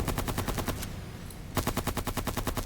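Full-auto Bolterium rifle firing in the video game Silica: rapid, loud, evenly spaced bursts of shots, a short pause, then another sustained burst.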